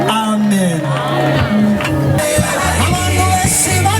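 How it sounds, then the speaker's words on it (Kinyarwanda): Women ululating and a congregation cheering in a lively church service, a loud crowd of whoops, trills and shouting voices overlapping with singing-like calls and babble throughout. "abadamu bose bakuvugirije impundu mu izina rya Yesu Kristo"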